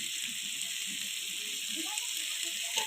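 Chopped tomatoes sizzle in a pan of frying spice masala, a steady broadband hiss throughout with faint voice-like murmurs low underneath.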